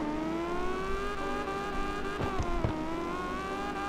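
Car drifting in the CarX Drift Racing video game: a steady, high engine whine holds through a long slide, with a couple of short thumps partway through and no voices.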